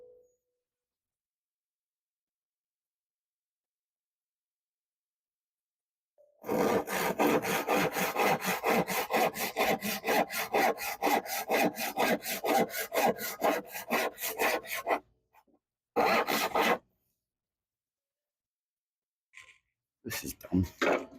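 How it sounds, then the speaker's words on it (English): Poplar hardwood being cut with a hand saw in a workshop: a long run of rapid, rhythmic rasping strokes, close and loud, then after a pause a short burst of sawing and a few final strokes. "You have to pardon me for a moment while I do some sawing here."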